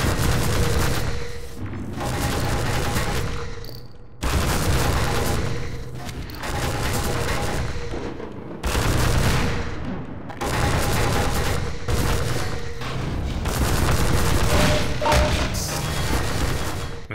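Dense, loud gunfire from the video game Half-Life 2: Episode 1 fills the whole stretch, rapid automatic bursts and heavy thumping blasts in repeated volleys separated by brief gaps, with no talking.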